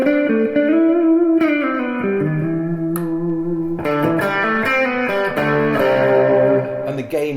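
Distorted electric guitar with freshly changed strings, loud and sustained, with chords and single notes ringing through heavy drive and bright top end, played alone without talk.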